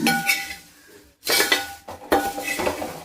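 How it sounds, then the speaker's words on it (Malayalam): A spoon stirs flattened rice and grated coconut in a metal pan, giving close clinks and scrapes in three short bursts separated by brief pauses. "അതൊക്കെ ഒന്ന് എല്ലായിടത്തും നിന്ന് ഇളക്കി യോജിപ്പിക്കാം"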